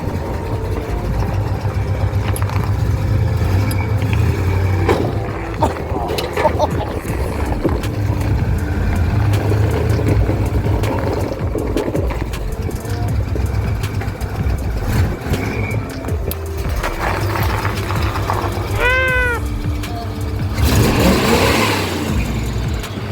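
A Ford F350 truck engine runs loud and close with a steady low rumble and occasional revs, plus a brief rising whine near the end, with no one talking.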